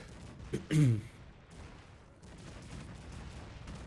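A single heavy cannon boom from the video game Cossacks 3 bursts out, then gives way to a low, steady rumble of background noise.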